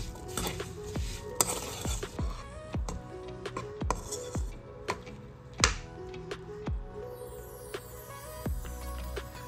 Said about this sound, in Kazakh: Жақсылап араластырамыз.